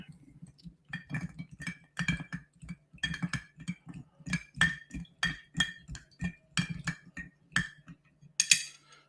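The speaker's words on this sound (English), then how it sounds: "I'm going to do orange bitters. Little bit of bitters. And just give that a stir." A spoon stirs a cocktail with orange bitters in a glass, giving a steady series of light, rhythmic clinks and taps against the glass, close by and fairly quiet.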